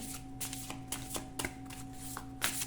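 A deck of oracle cards is shuffled by hand in quick, steady riffling bursts, close and fairly loud, over a faint electrical hum.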